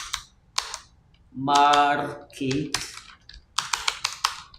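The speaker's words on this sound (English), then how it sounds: "Let me just quickly type that out." Quick keystrokes on a computer keyboard, a rapid run of close clicks at the start and again at the end, with a spoken voice filling the middle stretch.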